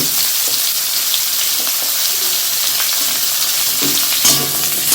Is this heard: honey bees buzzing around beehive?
no